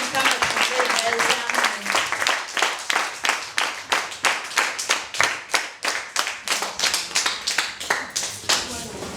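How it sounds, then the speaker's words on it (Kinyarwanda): A church congregation claps together in thanks to God, a steady, rhythmic run of hand claps that stays loud and close from start to finish with no talking over it. "Nimumfashe twongera dushimira Imana tuyiha amashyi"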